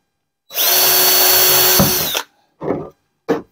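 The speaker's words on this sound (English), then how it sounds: "just make an 1/8 inch pilot hole." Power drill boring an 1/8 inch pilot hole in a bait tank, one loud close whirring run of about two seconds followed by two short bursts as the trigger is pulsed, no talking.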